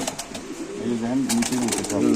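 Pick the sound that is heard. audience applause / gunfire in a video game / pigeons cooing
pigeons cooing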